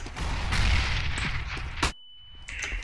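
A grenade goes off in a CS:GO match on the Cache map, a loud broadband blast sustained for about two seconds then cutting to near silence with a thin tone before game ambience returns.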